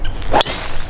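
A golf driver swings through and strikes the ball on a course, one quick close whoosh ending in a sharp crack, loud and alone.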